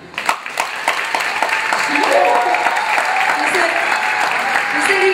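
Audience at a dance show breaking into loud applause, dense clapping that builds and holds steady close by, with voices mixed in.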